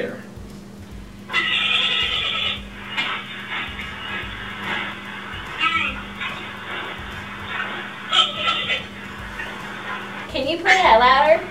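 Recorded giant panda barks, short puppy-like yips and whines in a quick irregular series, fairly loud over a steady background hum, with a denser burst near the end.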